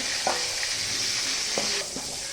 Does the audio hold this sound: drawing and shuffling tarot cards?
no